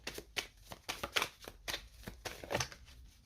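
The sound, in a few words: shuffling tarot cards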